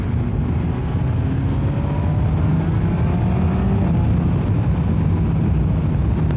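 Motorcycle engine drones loud and steady as the rider opens the throttle, a continuous low roar with faint rising whine, wind-buffeted and without speech.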